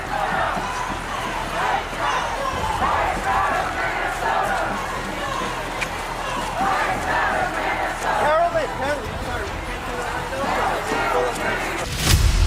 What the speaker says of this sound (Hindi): हजारों की ये भीड़ कहां से आई?